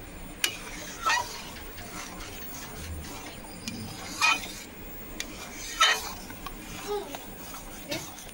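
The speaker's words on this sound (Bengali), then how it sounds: "এবার আমটাকে খুব ভালোভাবে এর সঙ্গে মিশিয়ে নিচ্ছি।" A spoon stirs ripe mango into thick mango firni in a pot, giving soft, irregular clinks and scrapes against the metal, faint over a low background hum.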